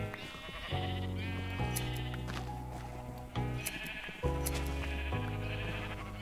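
Sheep in Minecraft bleat in a steady run of overlapping calls, loud and close, with several voices layered over each other and no talk.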